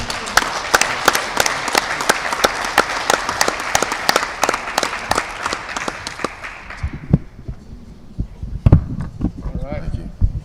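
Crowd applause breaks out at a high school national signing day event in Omaha, a dense patter of many hands clapping at close range that fades into scattered claps and room noise near the end.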